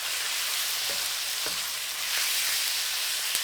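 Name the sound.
pork frying with garlic and caramel while stirred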